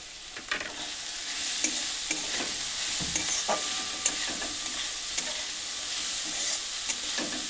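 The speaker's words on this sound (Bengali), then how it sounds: "এবার দিয়ে দিচ্ছি পেঁয়াজ কুচি" Chopped onions frying in a pan and being stirred, with a constant hissing sizzle broken by light scraping clicks of the spoon throughout.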